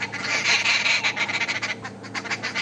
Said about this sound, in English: I love it when you get to see the bird that's making the noise.